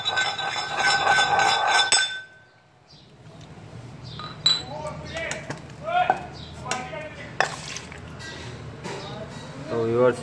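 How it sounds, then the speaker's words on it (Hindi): A spoon clinks against a pot while cooked milk is stirred into millet, light scraping and ringing taps scattered through the stretch, with a person talking over the stirring. "पकाया दूध फिर इसी में डाल के हम हिला के निकाल देंगे"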